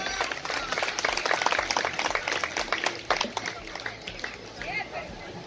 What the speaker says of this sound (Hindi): जोरदार तालियां हो जाए भाई सबको